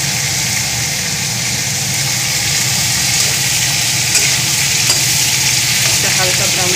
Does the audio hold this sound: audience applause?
no